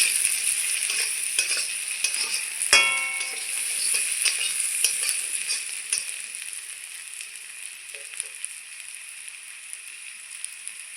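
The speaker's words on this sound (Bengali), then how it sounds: "একটু ভেজে নেবো হালকা করে।" Grated ginger frying with onion and chili in a pan gives a constant bright, hissing sizzle, with irregular scraping and clinking of a spoon stirring, close up throughout.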